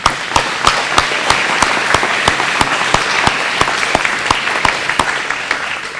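Applause from an audience at a school district kickoff event congratulating a board member, a dense steady round of clapping with a few sharp, evenly spaced claps standing out, loud and close.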